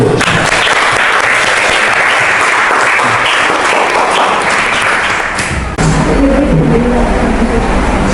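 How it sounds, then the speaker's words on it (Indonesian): Classroom applause for group 1, a loud, dense burst of clapping close by that cuts off abruptly, followed by a brief low rumble. "tepuk tangan untuk kelompok 1"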